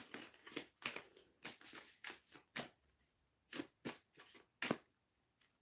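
Tarot cards are shuffled up close in a quiet room, giving a series of quick, crisp riffling and slapping bursts in an irregular rhythm.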